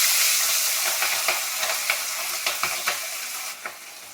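Pieces of hilsa fish spit and sizzle in hot oil in a home kitchen, a steady loud frying hiss broken by sharp crackling pops, with no talking.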